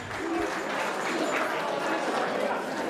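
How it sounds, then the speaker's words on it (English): Wedding guests give the father of the bride a round of applause after his toast at the reception, a dense, steady wash of clapping that holds evenly throughout, with faint voices mixed in. "let's give the proud father of our beautiful bride, Rachel, a big round of applause on a beautiful, beautiful, beautiful toast."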